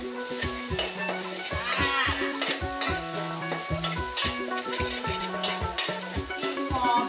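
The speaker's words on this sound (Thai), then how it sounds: "ต้องผัดพริกให้หอมก่อนนะคะ" Chillies fry and sizzle in a pan for a Thai stir-fry with bamboo shoots and minced pork, a steady close crackle under repeated stirring scrapes and clinks of a utensil against the pan.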